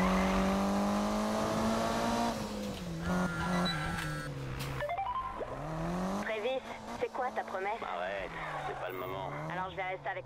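Turbocharged car engine in a Need for Speed game, revving and shifting with rising and dropping pitch and tire noise, mid-level under someone talking.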